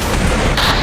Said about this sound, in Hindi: ताबड़तोड़ मिसाइल ब्लास्ट